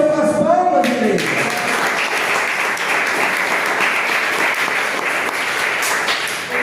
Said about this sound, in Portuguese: Logo o Senhor com as palmas,